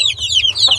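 Sick backyard chick making short, repeated high-pitched clucks and cheeps close by, several quick calls over a low steady hum.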